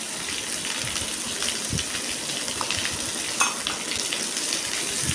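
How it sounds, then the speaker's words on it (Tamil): Vegetables and brinjal sautéing in hot oil with salt, giving a steady close sizzle and fry with soft stirring scrapes and a small clink partway through. "சால்ட்டு சேர்த்து வதக்கும் போது தான் அது நல்லா வதங்கும்"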